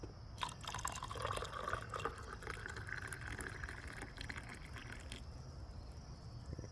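Hot water pouring into a container, a soft steady trickle with faint gurgling that tapers off, quiet and close.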